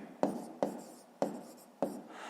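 Pen strokes on notebook paper while working a fifth-grade math exercise: four distinct scratchy writing bursts, close and fairly quiet, spaced about half a second apart with faint room noise between.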